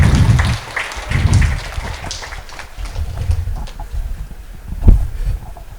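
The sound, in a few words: audience applause for Anand Prasad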